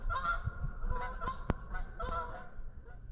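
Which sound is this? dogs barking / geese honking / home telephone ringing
geese honking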